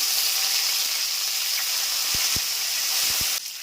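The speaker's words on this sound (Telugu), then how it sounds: "శనగపప్పులు, ఉద్దిపప్పులు వేగిపోయిన తర్వాత గుప్పెడు కరివేపాకు వేసుకుందాం" Steady, close hiss of curry leaves sizzling in hot oil alongside fried chana dal and urad dal, with a few soft taps and clicks near the end as the frying continues.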